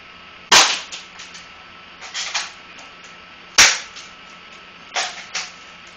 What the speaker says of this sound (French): c'est parti pour un petit test de tir